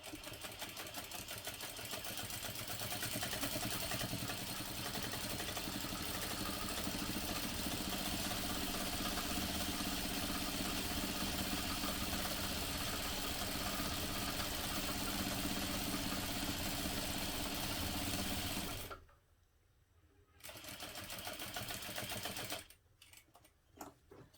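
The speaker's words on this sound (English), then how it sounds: "Now that both straps are sewn" A sewing machine runs in a fast, steady whir while stitching backpack straps, stops briefly for a pause, resumes, then cuts off again near the end; close and alone, with no talking.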